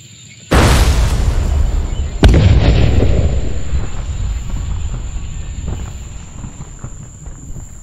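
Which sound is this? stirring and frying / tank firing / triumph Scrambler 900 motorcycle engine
tank firing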